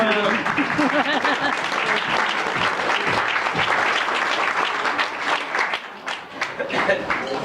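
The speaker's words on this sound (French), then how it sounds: "On applaudit" Banquet audience at a troubadour dinner in Provins applauding warmly, dense sustained clapping filling the room from start to finish, thinning slightly near the end, with voices mixed in.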